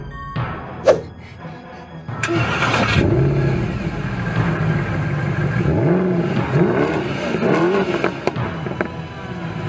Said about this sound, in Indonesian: Mobilnya ngebut aja.